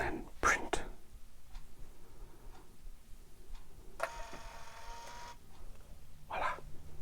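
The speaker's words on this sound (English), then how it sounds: "And that's the printing done." A small printer prints during a gemstone reveal, its brief buzzing rattle of about a second standing out among soft taps and clicks at a quiet indoor desk, with faint whispering nearby.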